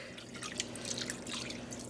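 Caribbean blue dye water, about a liter, poured over a merino and silk blend yarn, heard as a quiet steady trickling and splashing with small drips throughout.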